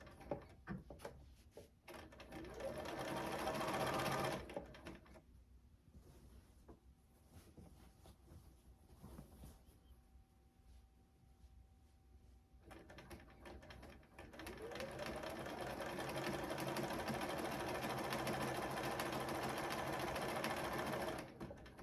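A sewing machine stitches a baby quilt in two runs of rapid, even whirring and clicking, separated by a quieter pause of faint handling noises.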